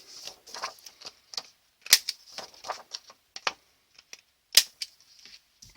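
A paper corner rounder punch clips the corners off single sheets of paper and card, giving a string of sharp, close clicks and snips at an irregular pace with short pauses between cuts.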